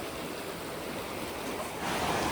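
A monsoon-swollen river rushes hard past the Bhimgoda barrage in Haridwar, a dense, constant roar of flowing water heard up close, swelling slightly louder toward the end.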